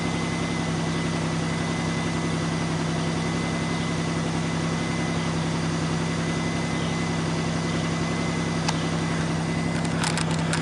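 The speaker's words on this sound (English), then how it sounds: "I don't think they like the sound of my van too much." A van engine idles steadily on a cold early morning, a constant low drone with a steady hum running throughout, loud and close, with a few faint clicks near the end and no talking.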